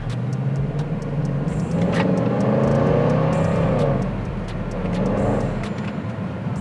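A steady vehicle engine drone and rumble, swelling in the middle and easing off, as if a car passes or idles nearby, with no voices.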